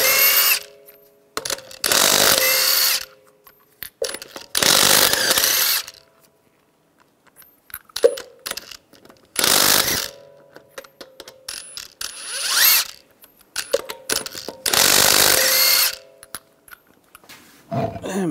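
A power tool with a 22mm socket spins lug nuts off a 2011-2018 Ram 1500 wheel, loud close whirring bursts of about a second each, repeated several times with ratcheting clicks and quieter handling sounds in between.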